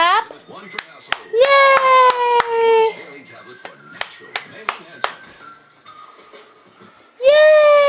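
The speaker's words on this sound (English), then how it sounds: "Can you clap?" Small child's hands clapping, a handful of sharp, uneven claps spaced apart between an adult's and a child's high-pitched voices and squeals, close up in a quiet room.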